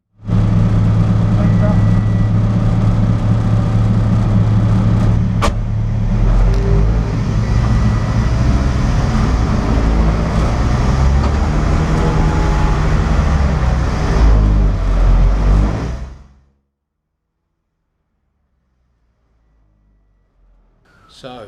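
An Audi A5 diesel car running through the first test of a newly fitted gearbox and new exhaust, a loud steady engine drone lasting about fifteen seconds before cutting off to near silence.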